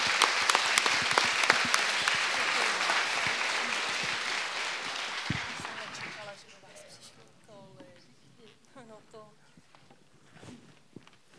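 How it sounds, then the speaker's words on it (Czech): An audience at a talk applauds warmly for about six seconds, dense clapping that then stops abruptly, leaving a few scattered claps and speech in the room. "Takže já prosím potlesk pro ty,"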